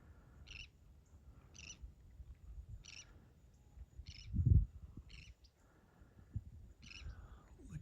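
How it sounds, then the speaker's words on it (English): Birds call outdoors near a dock at dusk, giving a series of evenly spaced, faint high-pitched notes that repeat roughly every half second to second over low wind rumble and a brief soft thump. "Oh, can you hear the birds?"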